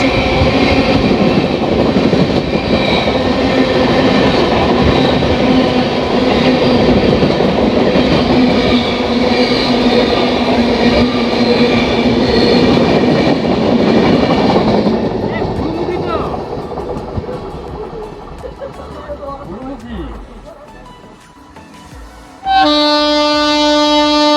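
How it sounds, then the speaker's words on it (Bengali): Nangal Dam–Kolkata Gurumukhi Express train (12326) rumbles loudly past at close range for about fifteen seconds, then fades into quieter rail noise before a horn-like tone sounds at the end. "12326 নাঙ্গাল ড্যাম কলকাতা গুরুমুখী এক্সপ্রেস"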